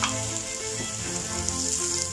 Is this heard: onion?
yes